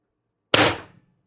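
A single sharp shot from a homemade stock-build gun powered by four 12-gram CO2 cartridges cracks out loud and close, then a short decaying tail follows in otherwise silent air.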